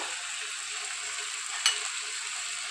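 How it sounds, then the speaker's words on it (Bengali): Ginger paste sizzles in a frying pan with a bright, even hiss that holds steady throughout, interrupted once by a brief clink of a utensil. "এই সময়তে আমি দিয়ে দেবো আদা বাটা আর দেবো রসুন বাটা"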